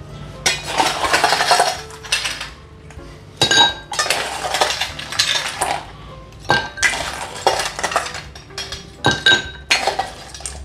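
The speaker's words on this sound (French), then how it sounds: "Toujours bien mettre de glaçons dans le cocktail, toujours." Large ice cubes clinking and clattering into a cocktail shaker while a bourbon sour is being made, with repeated bursts of loud, close glassy and metallic clinks and no talking.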